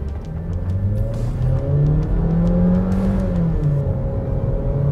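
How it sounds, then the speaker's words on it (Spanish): A Suzuki S-Cross with a turbo engine accelerates at full throttle in Sport mode, a loud, close engine drone climbing steadily in pitch with a brief dip at the gear change, and no talking. "Ahora les voy a mostrar la aceleración. Verifico que esté en modo Sport. Vamos a fondo."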